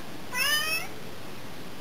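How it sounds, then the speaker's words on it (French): A house cat meows once in a single drawn-out, rising-and-falling call, fairly close and clear against a quiet room, with no talking. "le chat que vous entendez, les miaulements là"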